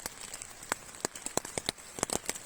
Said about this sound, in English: Sounds like the rain's dying down.